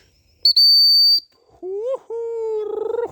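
A dog recall whistle is blown loud and close in a sharp high blast lasting under a second. Lower whistled tones follow, with a fluttering warble at the end.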